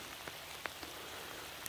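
Soft, steady rain patters on a surface, with a few distinct drops ticking through the faint, even hiss.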